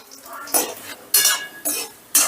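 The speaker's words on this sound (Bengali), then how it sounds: "কাজু আর কিশমিশটা বেশ ভালো করে ভেজে নিয়েছি" Cashews and raisins frying in ghee, stirred in the pan with four sharp, evenly spaced scraping strokes over a faint sizzle, close by and with no voices.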